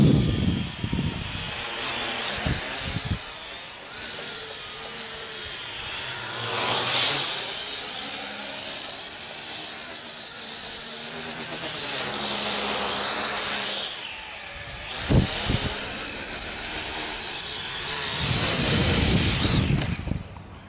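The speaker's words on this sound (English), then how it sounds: "I think it's getting a bit. Getting a bit gusty, guys." Gusty wind beats against the microphone in repeated low rumbling bursts while an X10 quadcopter hovers nearby with a continuous whirring, hissing motor drone.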